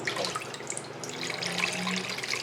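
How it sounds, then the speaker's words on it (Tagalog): Water pours into a pot of kare-kare oxtail stew in peanut sauce, a steady close splashing stream running for a couple of seconds without talk. "Kaya dadagdagan na lang natin ng tubig."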